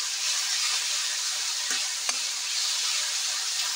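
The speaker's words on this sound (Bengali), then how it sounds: "মশলা এখনো কষানো হয়নি, মশলাটা কষাচ্ছি, এখনই মাটনটা দিয়ে দেবো।" Masala for mutton fries and gets stirred in a pan with a steady, dense sizzle throughout and a couple of faint spoon knocks in the middle.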